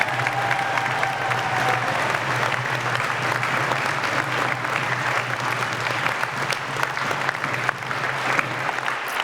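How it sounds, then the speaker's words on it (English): Steady, dense applause from a large graduation ceremony audience at the University of Northampton, loud and continuous throughout with a faint crowd murmur underneath and no speech. "let us all give them a resounding, joy-filled round of applause."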